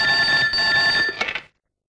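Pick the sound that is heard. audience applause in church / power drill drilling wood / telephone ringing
telephone ringing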